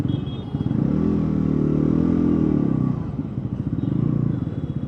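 A 2025 Bajaj NS400Z motorcycle rumbles on the road. The engine pulses loudly, swells into a steadier drone, then falls back to an uneven putter.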